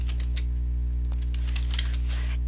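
Keys tapped on a computer keyboard while editing a Google Site, a few light scattered clicks and a short quick burst near the end, close and fairly faint over a steady low electrical hum.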